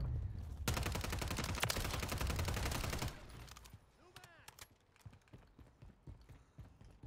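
Rapid automatic gunfire from Call of Duty Modern Warfare 2019 bursts loudly for a few seconds, then gives way to quieter scattered single shots and clicks.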